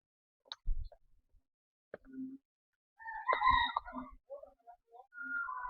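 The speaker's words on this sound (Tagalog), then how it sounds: "May mga nakatali pa namang manok." Chickens tied up outdoors during flooding from a typhoon, with a few faint clucks and squawks scattered among quiet gaps and soft splashy sounds, fairly distant.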